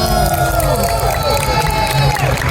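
Crowd at an anime convention panel for a Fate collaboration cheers and whoops loudly, a dense, sustained wash of voices with a hum underneath and no individual clapping standing out.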